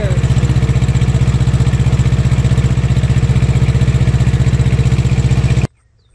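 A Tripac APU engine on a semi truck runs loud and close with a steady, even idle clatter, then cuts off abruptly near the end into near silence.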